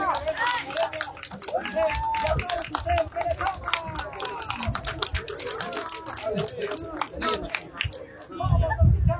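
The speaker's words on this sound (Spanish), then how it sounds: "¡Aplausos!" A crowd claps steadily and densely for about nine seconds at a motocross awards ceremony in Chilca, Peru, with an announcer's voice carrying over the applause.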